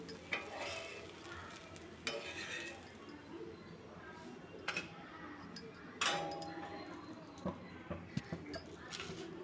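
A Mappillai samba rice dosa cooks on a hot pan with soft sizzling, broken by scattered clinks and scrapes of a utensil against the metal, all fairly quiet.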